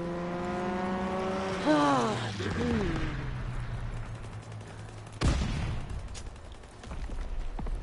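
An aircraft strafing run in a shooter video game: a loud engine whine sweeps downward in pitch, then a sharp, heavy burst of gunfire hits and trails off into rumbling noise.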